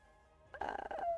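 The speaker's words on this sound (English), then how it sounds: "chickens" Chickens cluck in Minecraft in a short burst of several quick, mid-loud calls from nearby, set over a faint steady game-ambience hum.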